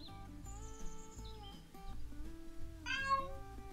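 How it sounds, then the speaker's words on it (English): A pet cat meows indoors during a digital painting session, with a couple of short cries rising over steady background music. "What's the matter, Miss Meow?"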